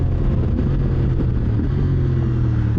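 CFMOTO 2025 motorcycle engine pulling hard in sixth gear under wide-open throttle, a loud, steady, dense drone with some wind rush, no talking.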